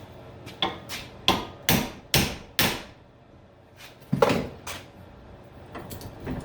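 A run of loud, sharp hammer blows driving a metal punch, roughly evenly spaced, then a pause and a few more strikes, close by at a workbench.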